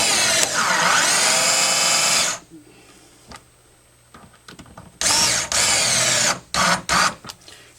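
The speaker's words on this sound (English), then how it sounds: "I'm going to do just like we did before with the cordless screwdriver." A cordless screwdriver whirs loudly for about two seconds, then goes quiet, followed by several more short bursts of driving close by.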